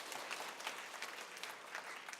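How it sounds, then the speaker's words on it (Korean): A church congregation claps together, a dense, even patter of many hands heard at a moderate distance and lasting the whole short stretch. "다시 한번 격려의 박수를 부탁드리겠습니다."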